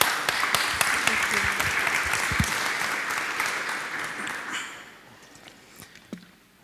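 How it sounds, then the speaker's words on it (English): Audience applause at a Python tech conference talk, strong at first and then thinning out into a few scattered claps and small sounds before fading. "Round of applause for Emma and Leila."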